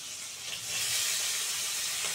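Capsicum and tomato hit hot oil in a frying pan and set off a steady, broad hissing sizzle that swells a little at the start, close and alone with no talk.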